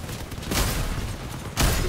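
Gunfire from vehicle weapons in a Crossout PvP match, with a starter almost-stock vehicle: two loud bursts of booming shots with a rumbling, noisy stretch between them and no talk.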